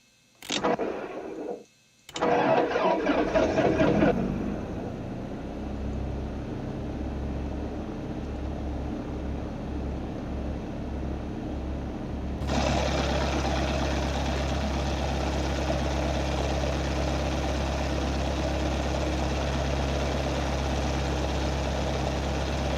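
Cessna 172SP piston engine in X-Plane 11, throttle set to 20%, a steady low droning idle with a brief start-up sputter and ticking, rising to a fuller, louder hum partway through.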